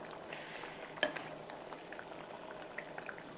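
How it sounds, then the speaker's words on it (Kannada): Egg palak curry in a pot keeps bubbling after the stove is turned off, a steady close simmer of soft pops and gurgles with a sharper blip near the start, no voices. "ನಾನು ಆಫ್ ಮಾಡಿದರೂ ಕೂಡ ಸ್ಟವ್ ಎಷ್ಟೊತ್ತವರೆಗೂ ಕುದೀತಿದೆ."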